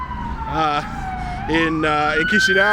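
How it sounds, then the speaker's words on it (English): A wailing emergency vehicle siren sweeps up and down in pitch at moderate distance in Chișinău while a person speaks over it. "It is kind of loud, the sirens."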